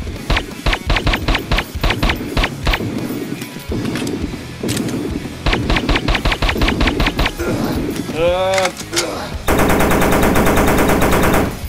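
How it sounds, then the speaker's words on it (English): A minigun or LMG fires in the video game Dinosaur Hunt. Rapid, loud bursts of automatic fire come in several clusters with short gaps. A brief voice cuts in, and a dense, steady burst plays at the end. "one of the larger guns, like the minigun or that LMG"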